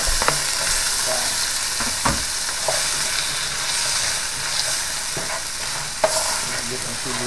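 Onion sizzling steadily in a hot pan, a loud continuous frying hiss broken by a few sharp clicks and scrapes from stirring.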